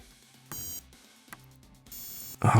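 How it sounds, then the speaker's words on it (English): Short electronic beeps sound at irregular moments as a ball hits in a simple paddle game on a tiny handheld Thumby console, followed by a louder, harsher buzzing tone at the end. "Glad we get a nice little beep when it hits the thing though."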